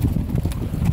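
Steady clopping of a Fiaker carriage horse's hooves in Vienna, a continuous close rhythm of hoofbeats with a low rumbling background.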